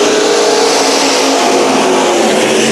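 IMCA stock cars race at Bakersfield. A dense, loud engine roar fills the whole clip with a steady droning whine, without letup or voices.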